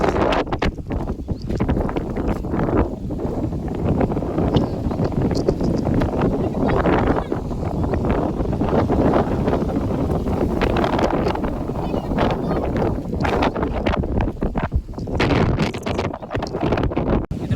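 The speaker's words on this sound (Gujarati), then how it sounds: "પવન મિત્રો અત્યારે બહુ આવે." Strong wind roars steadily before rain in Talaja, buffeting the microphone with a loud, continuous rush and gusty surges throughout.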